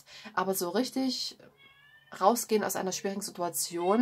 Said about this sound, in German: Falls du jetzt gerade im Hintergrund etwas maunzen hörst, das ist meine Katze